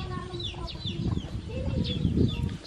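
Chickens, including a rooster, cluck and squawk close by on a farm in a brief, busy burst, with a voice speaking alongside.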